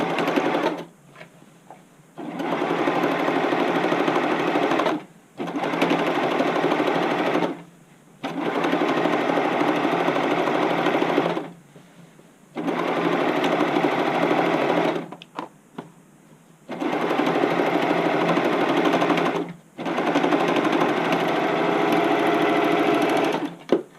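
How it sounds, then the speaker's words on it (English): A sewing machine zigzag-stitches the seams of an upcycled button-up shirt, loud and close, running in several sustained bursts of a few seconds each separated by brief pauses. "it's a good idea to zigzag and or just close off your seams"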